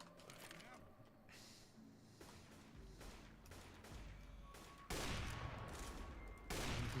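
Sniper rifle shots in a video game, resembling the Counter-Strike AWP, ring out as a few sharp, loud blasts with a long echoing tail, set against quieter game ambience.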